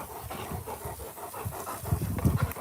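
A Rottweiler pants rapidly and steadily after running, the quick rhythmic breaths close by and growing louder and heavier toward the end.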